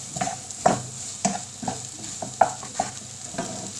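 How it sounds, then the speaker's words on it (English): Herbs stirred in a hot frying pan before eggs go in: close, rhythmic scraping strokes over a constant bright sizzle. "then I'm going to crack my eggs in"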